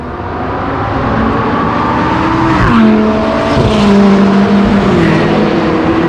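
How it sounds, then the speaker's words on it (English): A McLaren and a Lamborghini Huracan Spider roar past on a racing circuit, loud engines rising and shifting pitch as they approach and pass close by, with a brief tire squeal mixed in. "we have the McLaren and the Huracan Spider both coming up right now"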